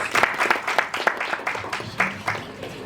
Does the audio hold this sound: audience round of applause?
yes